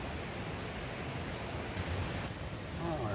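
A river in the Great Smoky Mountains National Park rushes steadily, a dense, even wash of flowing water, close and continuous, with a faint voice near the end.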